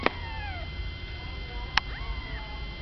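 A small kitten gives a few faint, thin meows with rising and falling pitch over a steady low background noise.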